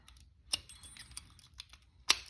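A slim pick is zipped across the pins of a Tru Guard WR padlock, making quiet, rapid metallic clicks and ticks with two sharper snaps, close up and faint.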